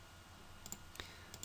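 A few soft, quiet computer mouse clicks sound while someone works in an Excel dashboard, with short isolated clicks spaced over a moment in a quiet room.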